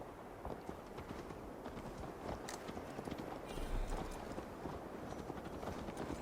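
Horse hooves clip-clopping as a rider travels in Assassin's Creed Valhalla, a steady rhythmic patter of hoofbeats at moderate distance over soft outdoor ambience.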